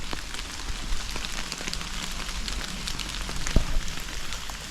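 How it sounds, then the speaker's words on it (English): Heavy rain drumming steadily on a small inflatable tent during a dark early-morning storm, a dense close patter with occasional louder drops. "it's still raining severely"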